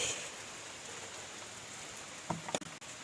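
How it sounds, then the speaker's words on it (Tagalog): Rain falls steadily outdoors on a cold, windy afternoon, a soft continuous patter at low level, with a few sharp knocks and rustles near the end. "Hindi pa humupa yung ulan."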